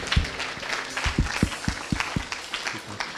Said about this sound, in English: Let's clap for the worship team.